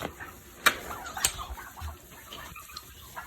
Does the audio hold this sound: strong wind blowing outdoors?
no